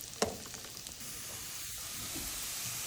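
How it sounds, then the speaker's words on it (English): Butternut squash browns in a hot pan, giving off a quiet, steady sizzle with faint hissing, a sharp clink or stir near the start, then an even frying hiss without any talk. "So my squash has been cooking for 8 minutes. It's getting nice and brown."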